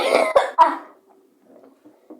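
Three sharp coughs in quick succession, close and fairly loud, followed by faint low murmurs and quiet background noise.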